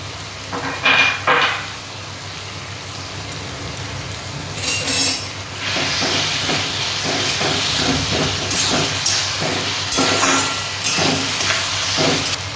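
Ginger garlic paste drops into a hot pan of softened tomato and onion for a mutton and papaya curry, setting off a loud, steady sizzling hiss with crackles that starts partway through and keeps going.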